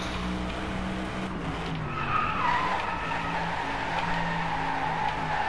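Tyres squeal and skid in the racing game Driveclub as a car drifts around a track, a loud continuous screech over engine roar that rises midway and holds steady to the end.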